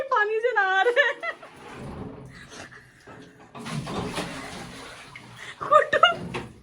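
Water splashing and pouring over a person bathing during a Holi prank, heard in bursts among voices and laughter nearby.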